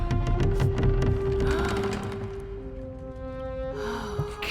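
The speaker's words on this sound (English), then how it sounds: "We get another chest. And the double gasp." Lara Croft's double gasp as she opens a chest in Tomb Raider (2013), two quick breathy intakes over a steady game music and ambient backdrop.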